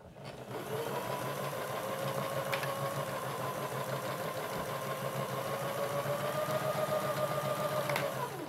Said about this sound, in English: I'm just going to stitch on the open folded side of my project